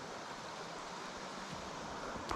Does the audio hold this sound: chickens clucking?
no